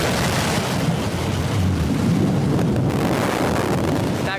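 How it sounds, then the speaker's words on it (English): Blue Origin New Shepard booster's BE-3 engine relighting during descent for landing, a dense, steady broadband roar with a low rumble that holds loud and unbroken throughout. "There's the relight of that BE-3 engine."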